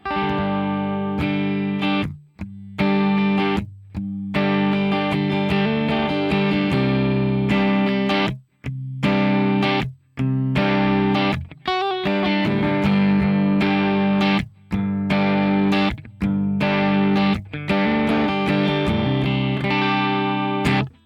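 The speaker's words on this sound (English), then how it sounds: "This is just guitar, amp, and impulse response." Dry electric guitar played through an amp and impulse response with no effects, a distorted, fat-toned riff of chords and notes that plays steadily for about 20 seconds, broken by brief pauses between phrases.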